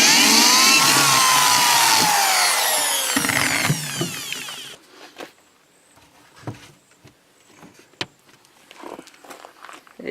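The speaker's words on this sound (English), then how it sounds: "So go ahead and drill it." An electric drill whines loudly through a wooden subwoofer trunk plate for several seconds, then stops, followed by quiet shuffling and light handling noises.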